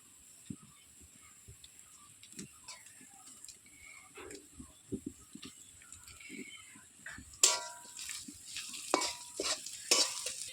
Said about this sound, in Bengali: আর এবার ঠিক করে নাড়াচাড়া করব। দেখুন ম্যাগিটা ভালো করে ভাজা হয়ে গেছে।